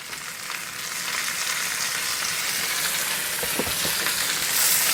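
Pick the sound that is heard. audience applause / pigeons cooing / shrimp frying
shrimp frying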